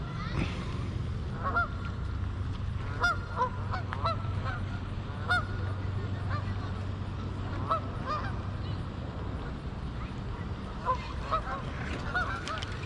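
Geese honk repeatedly at a fishing spot, a flock calling in scattered bursts at middle distance over steady outdoor background noise.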